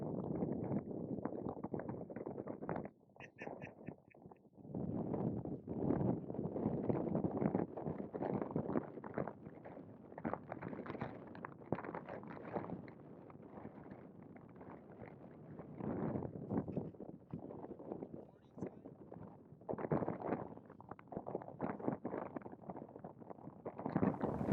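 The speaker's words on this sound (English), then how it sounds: "We decided against editing out the sound of the wind in these next clips, so viewers can get a better sense of the power of this practice." Strong winter wind roaring across a frozen lake during gillnetting, a loud continuous buffeting rush on the microphone that surges and eases, with a brief lull near the start.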